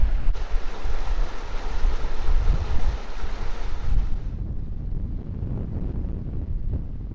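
Strong wind roars across the microphone over rough, breaking sea waves around a sailboat on a coastal passage in New Zealand; steady and loud throughout, the buffeting easing slightly near the end.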